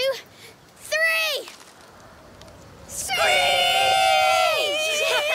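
Characters in the video game A Plague Tale: Requiem screech like birds of prey, voices imitating the sound in rising and falling shrill cries, first a brief call and then a longer, louder group screech.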